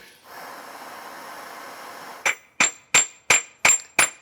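Six sharp metallic hammer strikes in a steady rhythm on a lightsaber hilt build, each ringing briefly, following a stretch of low background hiss.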